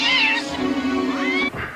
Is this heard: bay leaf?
no